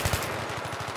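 Rapid automatic gunfire in a 5v5 competitive shooter match, a fast regular burst of about a dozen low, punchy shots, loud and close.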